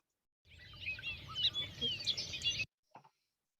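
Bobolink song from a grassland bird, a rapid bubbling jumble of varied high warbling notes, fairly loud and continuous for about two seconds, followed by a brief faint call.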